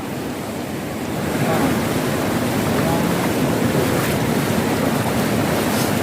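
Aurora Falls, a waterfall in Nueva Ecija, gives a dense, steady rush of falling water that grows a little louder after the first second and holds, close and full, with no talk.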